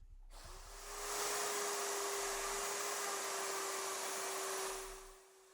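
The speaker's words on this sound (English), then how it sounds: "I used my handheld router to make the holes that the T-Trak will sit in." A handheld router cuts holes in wood for T-track on a DIY drill press table. Its motor spins up to a steady high whine with a hissing cut, holds for several seconds, then winds down, with no voices.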